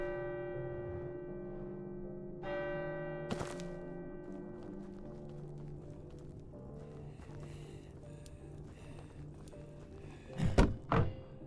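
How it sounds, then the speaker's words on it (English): A bell rung in the video game Abiotic Factor, heavy metallic strikes with long ringing tones that fade, followed by scattered game noises and a couple of loud thuds near the end. "they go and ring the bell, which calls all of them on me"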